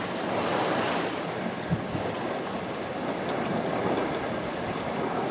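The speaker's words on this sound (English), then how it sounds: "Nice strong westerly winds, a lovely sailing day." Strong westerly wind and sea rush past a small sailing boat on a solo coastal passage, a continuous loud roar of wind noise and surf with no speech.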